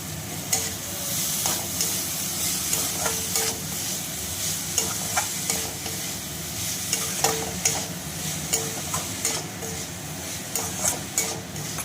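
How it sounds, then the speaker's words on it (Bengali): Boiled banana flower stir-fries in an oily, cooked spice masala for a vegetarian Bengali curry: a constant hissing sizzle with regular scraping strokes of a spatula against the pan. "মোচাটা দিয়ে আমি বেশ কিছুক্ষণ একটু কষিয়ে নিচ্ছি"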